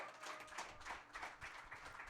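Audience applause at an anniversary party concert, a quiet, steady patter of many hands clapping at a distance with no talk over it.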